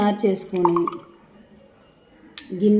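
Steel bowls clink and knock as they are moved and set down, with a voice talking before and after.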